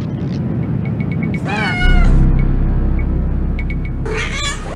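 In the video game Phantasmagoria, a cat lets out a loud, wavering meow and then a second yowl, with a low rumbling hum underneath.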